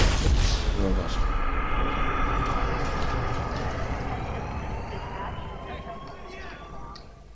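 An explosion in GTA V with an Iron Man mod: a loud, booming blast at the start that rolls away into a long, fading rumble.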